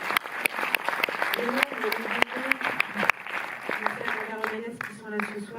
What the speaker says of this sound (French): des applaudissements qui bruissent